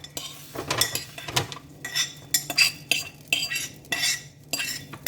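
Hot ground beef scraped out of an air fryer dish into a container, giving repeated metal-utensil clinks and scrapes in short uneven bursts, close and fairly loud with no talk.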